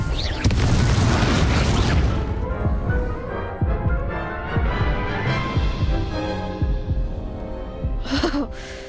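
Confringo explosion spells burst during a duel in the video game Hogwarts Legacy, with loud, heavy booms and deep rumbling throbs thudding one after another over a sustained low roar.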